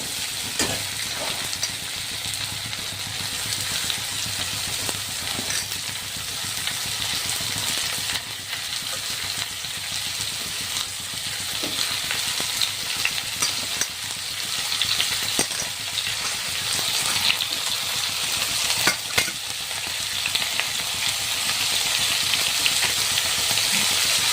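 Chopped vegetables for veg momo stir-fry in a hot pan, giving a continuous close sizzle with scattered scraping and clicking from stirring throughout.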